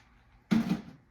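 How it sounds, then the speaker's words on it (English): A short splash of water thrown onto food in a crock pot, one brief soft pour lasting under half a second in an otherwise quiet kitchen. "Going to use a little bit more water just to throw on top."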